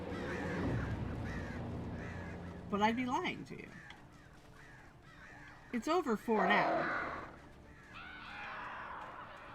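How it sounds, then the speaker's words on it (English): Crows caw in Alan Wake Remastered, several harsh calls in two bursts near the middle, loud over a game soundscape while someone talks through most of the clip. "as you can hear by the crows"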